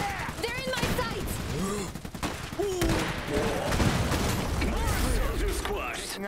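Dense gunfire and rattling explosions from the Iron Harvest battlefield, with overlapping shots and booms running nearly continuously and in-game voices calling out over the din.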